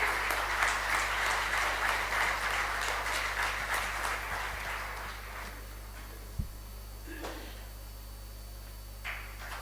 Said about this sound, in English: A round of applause for our UAE team.